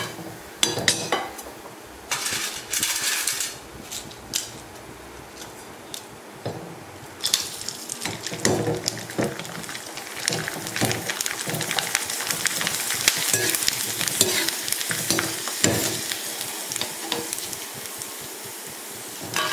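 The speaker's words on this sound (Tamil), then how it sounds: "நல்லா பொறிஞ்சிருச்சு ரொம்ப விட்டீங்கன்னா செவந்துரும்" Rice koozh vadam frying in hot oil, a steady close sizzle and bubbling crackle with occasional clinks of a ladle or utensil against the pan.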